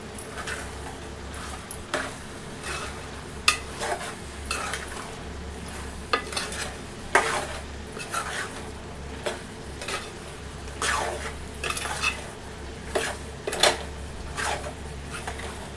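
Mutton being stirred in masala with salt, chilli and ginger paste in a pot, with steady scraping strokes and a spoon knocking against the metal at intervals over a low sizzle.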